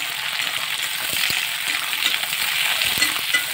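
Chopped onion frying in hot oil in a pan, a steady bright sizzle throughout with a few soft knocks of stirring, no voices.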